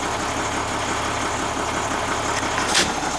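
A large commercial Carlin oil burner fitted with a 4 gallon-per-hour nozzle roars continuously at close range, a loud, steady broadband rumble with a brief hiss near the end and no speech.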